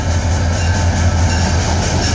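FEC freight train 436, led by locomotive 2006, rolls past at Gregory Road, a steady close rumble of wagons with faint wheel clatter and no talking.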